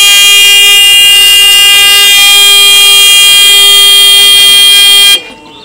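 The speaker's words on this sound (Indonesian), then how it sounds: "akan membunyikan buzzer untuk memberikan peringatan dini ke masyarakat untuk mengevakuasikan diri" An earthquake-detector robot built by a school robotics team sounds its buzzer alarm, a loud, steady electronic tone held for about five seconds before cutting off abruptly.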